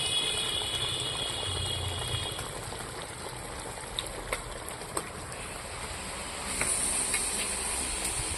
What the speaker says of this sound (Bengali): মাংসটা আমার রান্না হয়ে গেছে এই দেখুন একদম টকবক টকবক করে ফুটছে